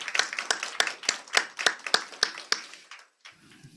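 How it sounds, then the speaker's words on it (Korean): A church congregation claps in thanks for the choir, a steady round of hand claps about three per second that cuts off abruptly, leaving a low murmur of room noise. "감사의 박수 다시 한번 크게 쳐드리면 좋겠습니다"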